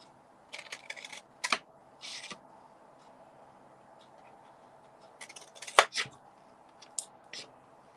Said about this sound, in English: it's good to use the bigger scissors